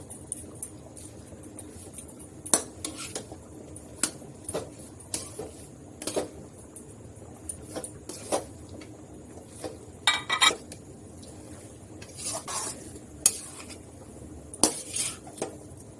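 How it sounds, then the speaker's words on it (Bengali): A spoon scraping and clinking against a pan while chalta (elephant apple) pickle is mixed with vinegar and ground roasted spices, irregular metallic taps and scrapes over a quiet hiss. "এই যে এভাবে কিছু সময় নাড়াচাড়া করার পরে আচারটা নামিয়ে ফেলতে হবে।"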